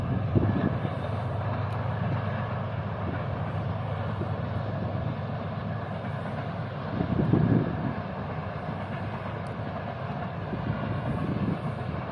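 A Pakistan Railways AG30 locomotive hauling the Bahauddin Zakariya Express 26 Down through the Sindh desert, a steady broadband rumble of train passing at moderate distance with a brief swell around the middle, no talk.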